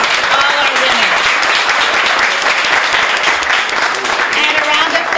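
Audience at an annual sixth-grade spelling bee applauding the winners, loud continuous clapping throughout with some voices and cheers in the crowd.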